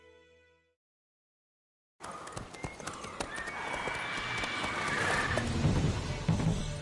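Roach, a horse in a video game, clip-clops steadily and neighs close by after a brief silence, with the hoofbeats continuing under the rest.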